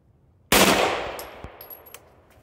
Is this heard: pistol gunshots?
yes